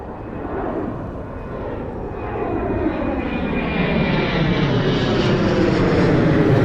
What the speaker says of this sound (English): We have WestJet going to Edmonton,